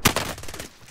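Gunfire in Call of Duty, a sharp loud shot followed by a rapid string of fading, reverberant bursts, no voices over it.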